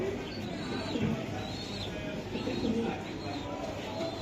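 Racer pigeons, a pair of young birds, coo softly in a loft, a few low rolling calls rising and falling over a constant background hum.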